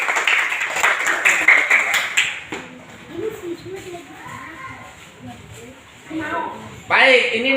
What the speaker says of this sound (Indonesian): Tepuk tangan buat teman-teman.